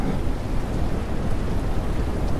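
Steady rain pours down in the game SurrounDead in a dense, even hiss, loud and continuous, with no voices.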